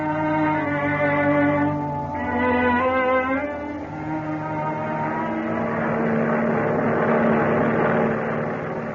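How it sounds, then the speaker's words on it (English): A transport airplane's propeller engine drones steadily overhead at high speed, its pitch wavering and rising in a loud continuous hum with no voices. "A transport airplane moving through the sky at high speed."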